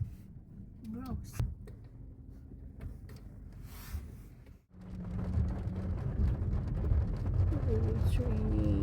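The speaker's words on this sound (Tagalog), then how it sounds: "It's raining." Steady rain hisses in the background at a campsite near a waterfall while people talk over it, with a heavier downpour building in the second half.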